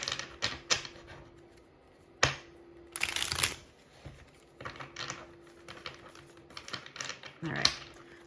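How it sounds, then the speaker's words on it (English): A deck of tarot cards is shuffled up close in quick riffling, clattering bursts with short pauses between them, while a person talks over the sound. "They want me to just shuffle and get the bottom of the deck."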